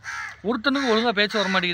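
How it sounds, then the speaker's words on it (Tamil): A crow caws outside in short, harsh, rasping calls that come in quick succession, mixed in with someone talking close by. "இங்கே வேறு ஒரு காக்கா வெளியே உட்காந்துக்கனால காக்கா சத்தம் வருது."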